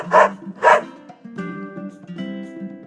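A video-game dog in Metal Slug Awakening gives two loud, close barks in quick succession, followed by game music and effects, with no voices.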